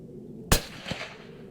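A single sharp rifle shot from hunting ammunition fired outdoors on a Texas range, one loud crack followed by a fainter echo a moment later.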